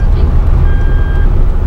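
Toyota seatbelt warning chiming as one thin steady beep partway through, faint over a loud, constant engine and cabin rumble.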